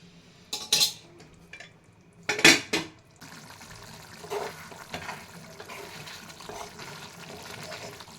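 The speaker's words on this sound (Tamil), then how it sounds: "அப்பப்போ இது கலரி விட்டுனே இருக்குங்க" A spoon clanks against a cooking pot while mutton chukka gravy is stirred. A few sharp metallic knocks come first, followed by a soft, continuous sizzle and bubbling from the simmering masala, with no talk.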